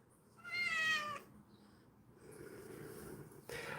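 A wet cat lets out a single drawn-out meow, close and fairly loud, followed by softer rustling and handling noises as it is about to be washed.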